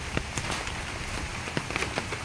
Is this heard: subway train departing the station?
no